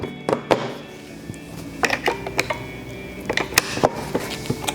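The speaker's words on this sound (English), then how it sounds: "Pull the hose down off the bottom, pop off the tank, grab another pre-filled tank, snap it back on" A pre-filled plastic solution tank pulled off and snapped back onto an ORBOT SLiM floor cleaning machine, heard as a quick series of close clicks, thunks and plastic knocks with no talking.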